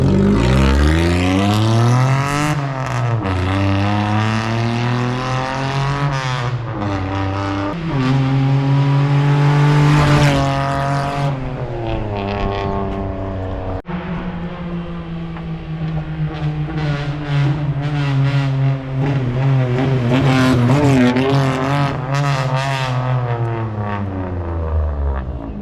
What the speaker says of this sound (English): so we straight piped the Honda only for a period of time because it's actually quite loud